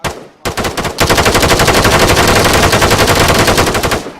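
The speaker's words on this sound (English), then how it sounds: "Go full auto and try accurate fire on one person." A full-automatic rifle fires on a training range: one short shot and a brief burst, then a sustained rapid string of loud, evenly spaced reports lasting about three seconds.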